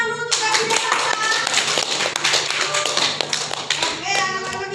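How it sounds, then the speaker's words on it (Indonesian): A class of young children clapping together in a classroom, a dense, steady burst of hand claps that fills the whole stretch, with faint kids' voices mixed in. "Kasih tepuk tangan dulu untuk Revi dan Sasa."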